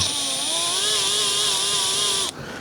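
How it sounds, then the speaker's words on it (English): A steady, high motor whine from a drill boring into a wood block, running continuously, loud and close, then abruptly cutting off near the end. "we're going to drill from both sides"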